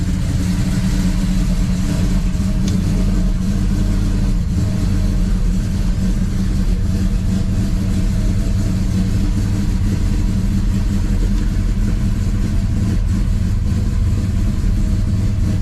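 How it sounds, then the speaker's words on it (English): A 1967 Dodge Dart's engine runs loud and steady up close as the car creeps onto a wooden platform in a garage, with a deep, continuous rumble that never cuts out. "Hopefully we can get up onto my wood platform before it starts spinning tires."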